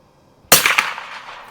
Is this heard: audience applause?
no